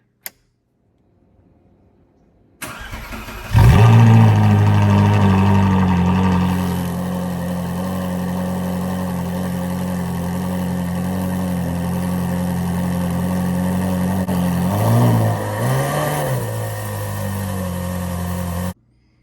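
A Ferrari 4.5-liter single-plane V8 starts up, barks loudly, then settles into a steady, smooth idle with a brief rev blip near the end before cutting off.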